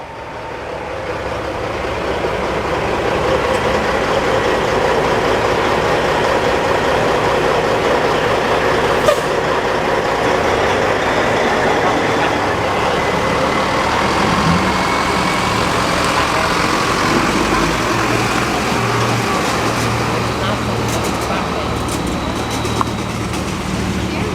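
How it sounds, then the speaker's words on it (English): A big Kenworth truck rolls into a busy car meet in Malpas, its deep engine rumble loud and steady throughout amid crowd and traffic noise, with a brief air-brake-like hiss near the start. "the big Kenworth is coming in"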